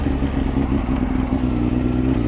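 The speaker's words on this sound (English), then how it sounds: "I'm on the Honda CBR600 today." A Honda CBR600F3 motorcycle engine running, a loud, steady, close mechanical drone with a low rumble and a constant hum throughout.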